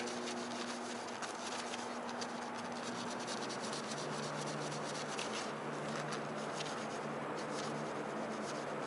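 Steady, continuous rubbing on an alloy wheel as old glue is worked off with vinegar, a soft even scrubbing texture that runs without pause, fairly quiet and close.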